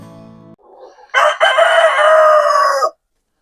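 A homestead rooster crows once, close and loud, a rising strained call of about two seconds after a short quieter lead-in, with no other sound around it.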